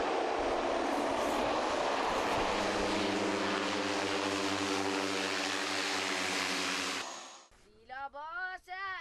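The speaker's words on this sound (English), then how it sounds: "exciting as the plane meanders around the high Himalayan passes" A twin-otter propeller plane flying over high Himalayan passes in Nepal, its loud, steady engine and propeller drone filling the cabin, then dropping away near the end as other sounds take over.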